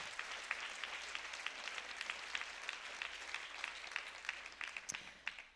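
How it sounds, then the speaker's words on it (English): An audience at a family-charity luncheon breaks into sustained clapping during a speech, a soft, distant wash of many hands that holds steady for several seconds. "Everyone always claps there"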